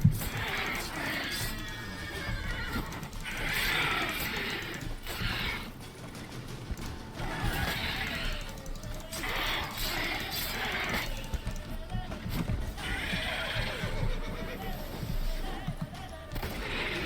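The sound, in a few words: Roach the horse neighing, from The Witcher 3 video game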